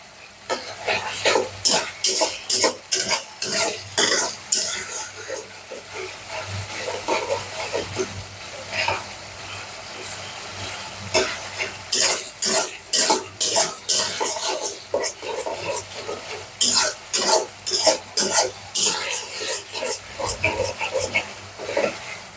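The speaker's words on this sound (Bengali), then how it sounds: "দেখতেই পাচ্ছেন আমি কতটা সময় ধরে আমি এটাকে খুব ভালো করে কষাচ্ছি।" Spices for fish curry being stirred and fried in a pan, a steady sizzle broken by repeated scraping and clattering strokes of a utensil against the metal, close and continuing throughout.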